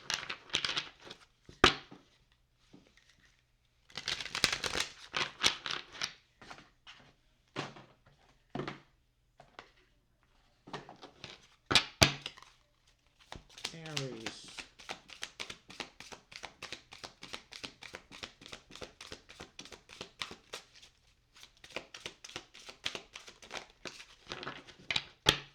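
An Akashic Soul oracle card deck being shuffled by hand, close crisp bursts of riffling and tapping cards separated by short pauses, with light crinkling throughout.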